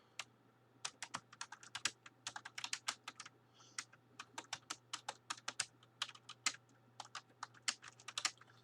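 Rapid, irregular keystrokes on a computer keyboard, close and crisp, in uneven bursts with short pauses, over a steady low electrical hum and no talking.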